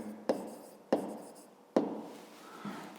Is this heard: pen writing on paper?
yes